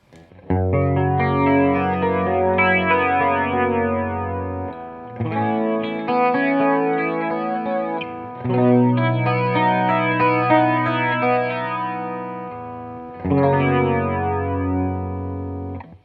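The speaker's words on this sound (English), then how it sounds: "So I've got the PastFx 80A flanger here, which is based on the 80A flanger." A clean electric guitar runs through a PastFx 80A flanger pedal with every knob at noon, giving rich, sweeping modulation over sustained chords in several long phrases with brief gaps, loud and close with no voices.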